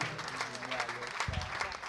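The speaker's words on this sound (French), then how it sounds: "On applaudit très fort pour Joyce, s'il vous plaît." Applause from an audience at a live concert and awards show, a steady wash of clapping that swells toward the end, with a voice talking over part of it.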